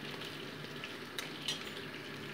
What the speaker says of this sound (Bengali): এটাকেও আমি মোটামুটি 2 মিনিট ভেজে নিচ্ছি